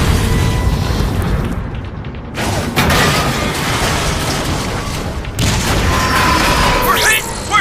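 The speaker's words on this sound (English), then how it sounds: "I repeat, we are under heavy fire!" Heavy gunfire and explosions in a Transformers movie battle scene, with loud booms, bursts and dense rumbling layered over music and shouted voices.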